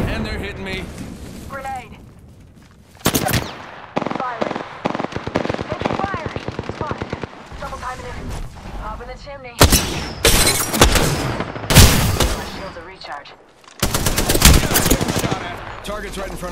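Apex Legends firefight, with rapid automatic gunfire bursts and sharp single shots rattling loudly and repeatedly, mixed with explosions, in-game voice callouts and music throughout.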